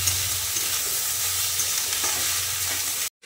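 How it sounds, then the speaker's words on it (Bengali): Cooked rice frying in a pan gives a steady, close, even sizzle with soft stirring texture throughout, cutting off abruptly just before the end. "অনেকটাই ভাত ভাজা হলো"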